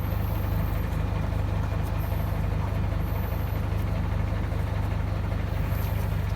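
An Isuzu Rocky 195 hp truck engine idles in a constant low rumble, steady and unbroken throughout, fairly close with no speech.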